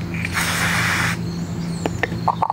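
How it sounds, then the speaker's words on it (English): A short hissing burst from an aerosol can of laser marking spray lasting about a second, followed by a few faint clicks and handling noises over a low hum. "So I'm just going to quickly spray it here."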